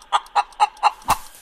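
Five short, evenly spaced clucks from a chicken in the FarmVille 2 farm game, close and clear with no talk over them.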